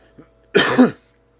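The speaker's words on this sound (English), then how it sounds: "My concentration is getting over a sudden cough." A single harsh cough comes close and loud, with a faint throaty sound just before it and quiet afterward.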